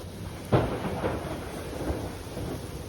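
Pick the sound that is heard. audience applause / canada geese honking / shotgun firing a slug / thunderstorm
thunderstorm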